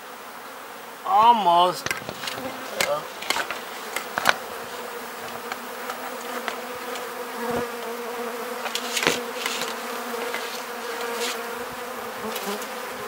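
Bees buzz around a honey extractor, a steady close drone with wings flicking near the ear, while a voice speaks briefly over it.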